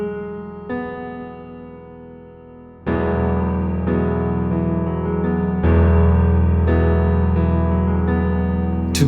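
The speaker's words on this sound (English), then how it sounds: "I'm playing everything together twice, and then I'll throw an arpeggio" An instrument sounds a full chord twice, each one sustained and ringing, then plays the same chord as an arpeggio, one note at a time, with the ninth among the notes. It sits close and clear, with no voice.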